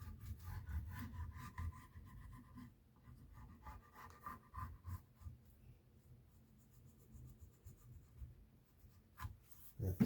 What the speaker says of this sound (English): now I'm just going over those very ends